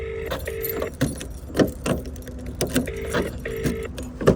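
A bunch of keys jangles in short metallic bursts, several rattling shakes close by, with a car's motor humming steadily underneath.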